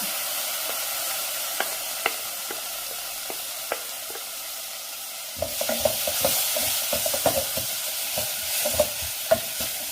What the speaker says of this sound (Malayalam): ഇനി നമുക്ക് അരിഞ്ഞു വെച്ചിരിക്കുന്ന തക്കാളിപ്പഴം ചേർക്കാം.